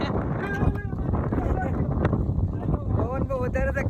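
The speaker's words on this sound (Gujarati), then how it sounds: "પવન બહુ વધારે છે." Strong wind buffets the microphone on a hill-station trip to Saputara, giving a constant heavy low rumble beneath people talking throughout.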